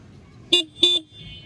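Two short, sharp horn beeps in quick succession from a Yamaha FZ-25 motorcycle, close and loud, followed by a faint engine hum.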